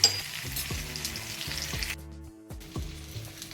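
Stuffed green chillies sizzle and fry steadily in an open pan, with a few soft knocks and scrapes as they are turned over, the crackle dipping briefly before picking up again.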